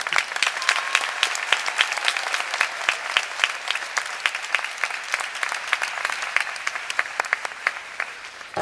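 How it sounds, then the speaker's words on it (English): An audience in a temple courtyard at a morning class in Mayapur claps continuously and evenly, a dense, close wash of applause with no pauses. "don't be shy clapping"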